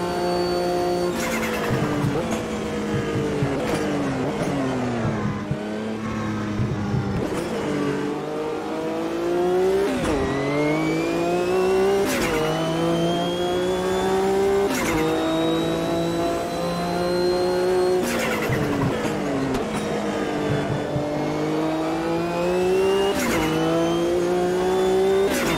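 Race car in Automobilista 2 during a World Sportscar Championship race: a loud engine climbs and drops through repeated gear shifts and braking, with tyre noise throughout and no talk.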